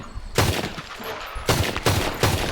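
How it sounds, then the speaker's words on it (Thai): Sharp Luger P08 pistol gunshots in the video game Red Dead Redemption 2 ring out, one alone and then a quick group of three, loud and punchy with brief echoing tails. "เสียงปืนก็กล้องนะครับ ก็เป็นเสียงเดิมของ ตัวเกมหลักนะครับ"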